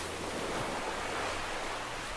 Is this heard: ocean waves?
yes